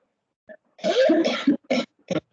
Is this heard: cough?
yes